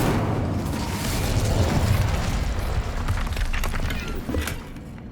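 The Incendio fire spell is cast in Hogwarts Legacy, giving a loud, dense roaring whoosh of flame with a rumbling low end and crackling bursts that carry on steadily for several seconds before easing slightly.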